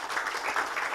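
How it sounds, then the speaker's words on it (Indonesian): A small audience at an Indonesian K-link business presentation claps together in a steady, brisk patter that holds for about a second at moderate loudness, with no voices over it. "Tepuk tangan kalau gitu ya."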